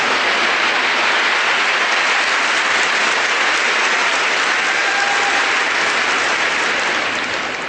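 A church congregation applauds during a deliverance ministry service, a dense and loud wall of clapping that holds steady throughout and eases off slightly at the end.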